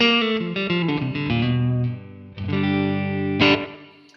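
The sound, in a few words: Fender guitar through Quad Cortex country preset, clean slapback reverb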